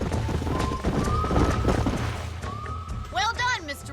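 Horses in the Red Dead Redemption video game clop and whinny on a ranch, hoofbeats thudding close under game dialogue, with a loud neigh near the end.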